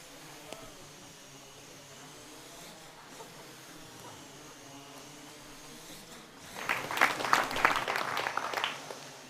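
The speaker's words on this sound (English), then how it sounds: "a trajectory is planned that carries the quad from its current state to the impact point with the ball" Small quadcopter drones hum steadily in a lab as one flies to strike a ball, the buzzing rotors swelling louder and busier toward the end with a brief impact-like clatter, no talking.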